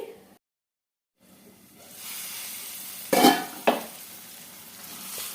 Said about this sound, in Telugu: ఇప్పుడు ఈ కడాయి పైన మూత పెట్టేసుకొని లో ఫ్లేమ్లో పెట్టేసుకొని టమాటాలని మెత్తగా ఉడికించేసుకోవాలి